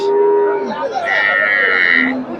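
Cows at a busy cattle market moo in one long, loud, close drawn-out call that shifts pitch partway through, then tails off, with faint crowd noise behind.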